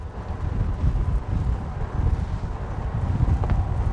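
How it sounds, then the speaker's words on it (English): Strong wind buffets a Lomac Granturismo 12.5 maxi RIB running at speed, a loud, continuous roaring rush with gusty surges and low rumble. "wind is getting stronger"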